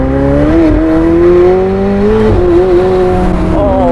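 A McLaren 765LT Spider's engine revs hard while driving, a loud, close, harmonic roar rising and dipping with throttle changes and gear shifts, heard alone without talk.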